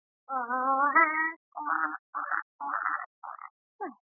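A person imitates a hen, with a drawn-out call followed by a few short clucking bursts, clear and alone.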